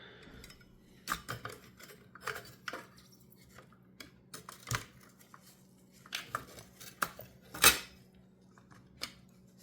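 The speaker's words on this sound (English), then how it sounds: "Now we've got this this metal shield that sits in." A metal shield is fitted into the casing of a FiiO DAC during a capacitor upgrade. Sparse, close metallic clicks and light clattering knocks sound at irregular intervals against near-silence, with one sharper clack.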